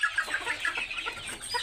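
Brahma chickens cluck in a coop at night, giving a quick run of close, soft clucks and murmurs with no talking.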